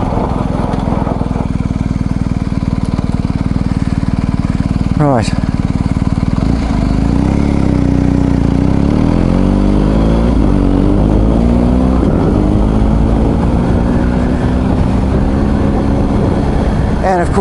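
A BMW R1250 GS Adventure motorcycle brakes hard in a straight line on pea gravel, its engine note dropping steadily under a loud, continuous rumble while someone talks briefly over it.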